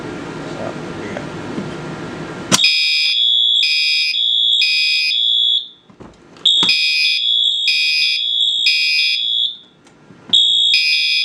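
Loud fire alarm horns blaring in repeated triple-pulse patterns after a pull station is pulled, starting abruptly after a rumble and pausing briefly twice, very close and piercing.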